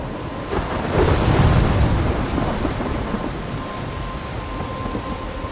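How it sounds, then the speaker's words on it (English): A heavy thunderstorm in the game Life is Strange: steady, loud, dense rain with a deep rumbling roll of thunder that swells early on and then settles into a constant downpour. "I'm trapped in a storm?"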